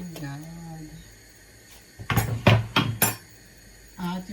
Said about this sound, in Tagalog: Ihulog ko ng kamatis.